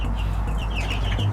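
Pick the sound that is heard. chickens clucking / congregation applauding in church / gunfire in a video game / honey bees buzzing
chickens clucking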